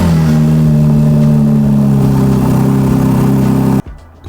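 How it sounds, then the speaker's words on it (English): A car engine idles loud and close in a Monaco luxury parking garage after a cold start, its steady harmonic drone holding firm before cutting off abruptly near the end. "I'm going to try to squeeze myself in here and do a little cold start"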